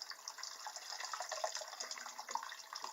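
Apple wine liquid runs through a straining bag as a soft, continuous trickling and splashing of liquid, fairly quiet and close, with no voices.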